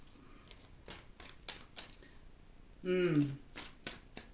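Tarot cards are shuffled in quick, crisp riffling bursts repeating through the moment, with a voice briefly speaking midway.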